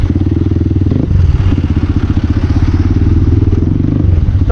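A CX250R motorcycle with its DB killer removed runs loudly up close, its exhaust throbbing in a rapid pulsing rhythm with crackles and pops through the rumble.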